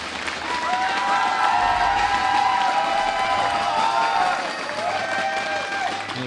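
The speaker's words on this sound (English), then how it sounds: "Give a cheer for Heart." A live studio audience in Burbank, California cheers and applauds during a StarCraft 2 WCS America semifinal match, a steady loud wash of clapping and whoops with a commentator's voice carrying over it.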